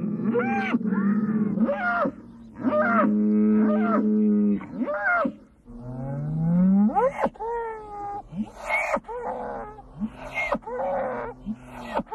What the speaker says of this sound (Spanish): El mugido fuerte y amenazador se llama bramido o piteo.